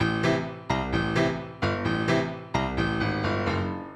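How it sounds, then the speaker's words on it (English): A piano phrase of repeated chords, struck in three clear groups with sustained ringing tones between, played alone and fairly close. "And so I have this piano loop,"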